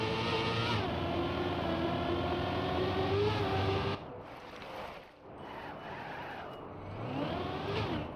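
A video-game car slides without acceleration, its engine holding a steady tone before dropping away into a rough, scraping tire skid that swells again near the end; no voices.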